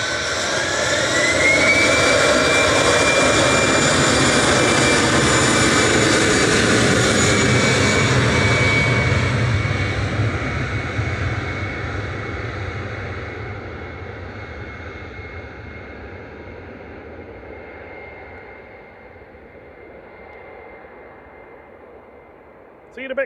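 A TAP jet airliner departing Manchester Airport for Lisbon roars loudly at first, with a rising whine over the rumble, then the broad engine noise slowly fades into the distance.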